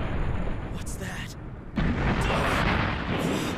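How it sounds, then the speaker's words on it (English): Anime explosion from a Gundam Iron-Blooded Orphans episode, a broad rumbling blast that fills the sound, dips, then erupts again into sustained roaring noise, with voices in the mix. "And everyone's destroyed in the explosion of the impact."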